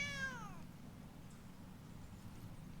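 A cat from a card effect in Magic Arena gives one short meow at the start that falls in pitch, then a low background hum continues.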